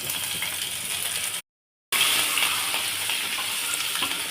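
Garlic and green chilli hit hot oil with toasted cumin and curry leaves, giving a steady, close sizzle. A short dropout breaks the sound, and then the frying resumes just as densely, with no voices.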